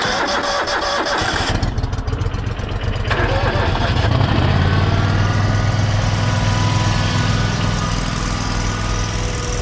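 A Toro Grandstand stand-on mower engine starts cold on a chilly morning around 30 degrees, cranking and catching before settling into a loud, steady idle close by.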